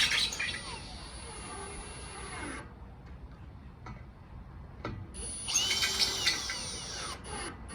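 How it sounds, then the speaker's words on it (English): A cordless power drill briefly runs in short bursts, near and fairly quiet, seating screws into a Heretic Slimline light bar mounted on a Prinsu roof rack, with quiet pauses between the whirring spells. "I'll just gently drill them in."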